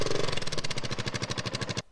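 A motorcycle engine revs close by with a rapid, pulsing rattle that speeds up, then cuts off abruptly.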